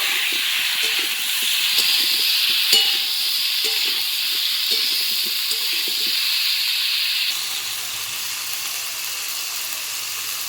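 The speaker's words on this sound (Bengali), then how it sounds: "কিন্তু আমি ফুলকপি আলুটাকে ভেজে নেব" Cauliflower and potato frying in a pan with salt and turmeric, a steady loud hiss of sizzling oil with occasional scraping stirs early on, quieting as a lid goes on and leaving a softer, muffled sizzle.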